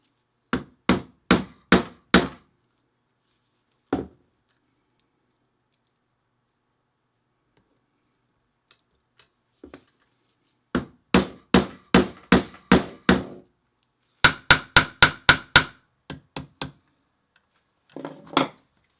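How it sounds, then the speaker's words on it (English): A hammer strikes a rivet into a leather shoulder strap with a spring clip, sharp close blows in quick bursts of four to eight separated by pauses and a few lone taps. "rivet our spring clip to the end of our shoulder strap"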